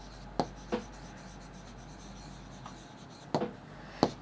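Chalk or marker writing on a board during a maths lesson, a few short scratchy strokes spaced apart with quiet pauses between them, close and moderately loud.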